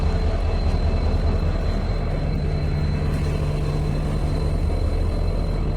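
Low, steady rumble of a small train beginning its journey from a junction, with a constant engine drone and humming tones, heard from on board without talk.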